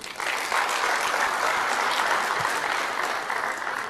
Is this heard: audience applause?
yes